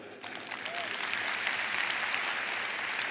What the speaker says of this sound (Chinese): 所以我们还是要给 Albert 一个掌声。